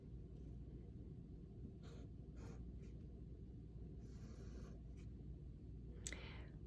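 Pen or pencil strokes on paper while sketching a small arrow for a children's muffin drawing: a few soft, brief scratching bursts, faint over a steady low rumble, with no talking.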